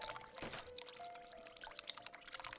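Cold water runs from a bathroom tap in the game The Cat Lady, a faint steady pour with a sharp splash at the start, alone and quiet.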